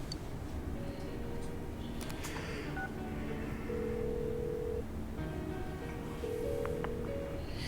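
Phone call tones in the video game Persona 4 Golden, a series of short electronic beeps and dialing tones over a busy game background, fairly faint and spread across the clip.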